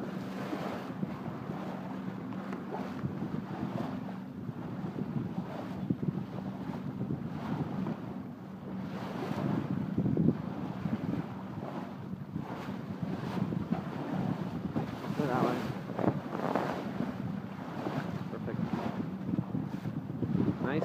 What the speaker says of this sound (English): Yeah, I think it's about 2 foot waves.